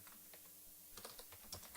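Quiet, rapid clicking of keys on a computer keyboard, with irregular taps that bunch into quicker runs toward the end, heard close but faint.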